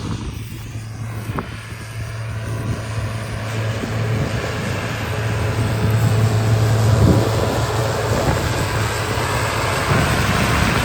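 A tractor's heavy diesel engine rumbles steadily and loudly while pulling a Veles plough through rye stubble, a low drone with wind-like noise over it that holds throughout.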